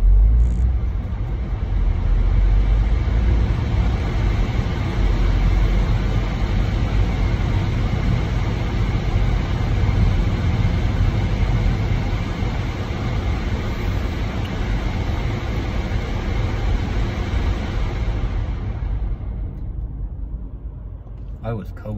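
A car engine idles with the heater fan blowing hard to demist steamed-up windows on a cold day, a steady, close, broadband roar that runs unbroken for about eighteen seconds before cutting out.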